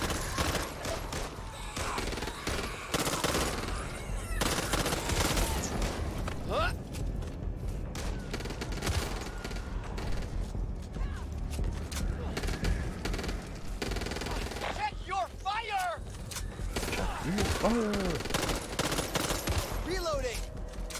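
Shotgun blasts and other gunfire in the Back 4 Blood beta on PC, loud repeated shots and bursts over chaotic game noise with talk in places.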